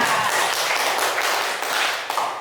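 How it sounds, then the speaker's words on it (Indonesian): Applause for Bu Novi from a group of teachers, a short burst of close, crisp hand claps rippling unevenly, with a few sharper claps standing out. "Tepuk tangan sekali lagi untuk Bu Novi"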